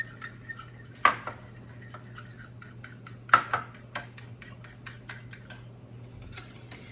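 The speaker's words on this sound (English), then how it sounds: "I'm going to take a fork, mix it up into this warm milk, and break up my yolks." A fork stirs egg yolks into warm milk in a bowl, scraping and clinking against the sides in quick, uneven strokes with a few sharper taps, close up over a steady low hum.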